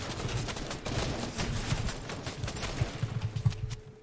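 Dense, continuous gunfire in the video game Fortnite, with rapid overlapping shots that are fairly loud and steady, heard without any speech.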